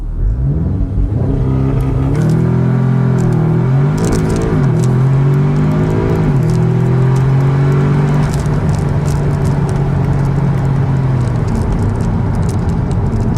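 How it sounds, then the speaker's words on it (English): An Audi S3's 2-litre turbocharged four-cylinder gasoline engine idles with a deep rumble, then revs up and down several times in rising whooshes before settling back to a steady, close idle. "a 2-litre turbocharged 4-cylinder gasoline engine"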